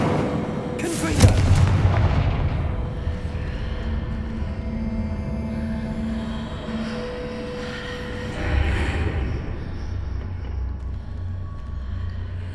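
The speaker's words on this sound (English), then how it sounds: "What did that burst of magic do?" Magic spell explosion in a Harry Potter video game, a booming blast with a sharp crack near the start that rolls into a long, rumbling decay, with a second swell of rumble later.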